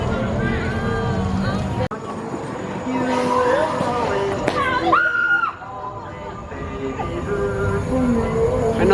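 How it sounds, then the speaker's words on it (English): A roller coaster train rumbles and squeals along its track nearby at SeaWorld during a Halloween event, a passing roar with screeching wheels mixed into crowd noise and people talking. "And that was a slider that just went by."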